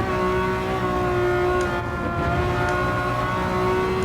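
Ferrari engine in Gran Turismo 7, played in a PSVR 2 sim racing setup, holding a steady high rev with a sustained droning tone, loud and close throughout with no talk.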